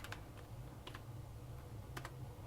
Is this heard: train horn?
no